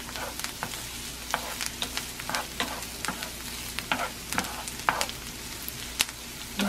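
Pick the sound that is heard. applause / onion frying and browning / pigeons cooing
onion frying and browning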